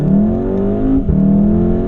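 A 500 horsepower VW Golf 7R with Oz Racing wheels accelerates hard, its exhaust note climbing loudly, briefly dipping at a DSG gearshift with slight lag, then rising again close up.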